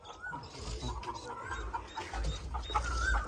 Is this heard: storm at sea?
no